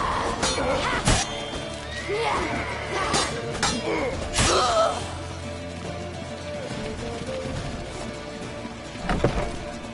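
Horse neighing and whinnying in The Witcher 3 amid a busy, cluttered game soundscape, with sharp crashes and impacts cutting in between the calls.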